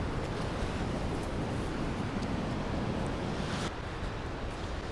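Continuous roaring rush of Livermore Falls in Campton, New Hampshire, after heavy rain, broad and steady, heard from nearby.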